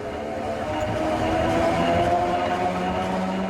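An old historic train set, in service from 1909 to 1954, runs again on its original railway line, with a steady, loud rumble and rail noise that continues throughout.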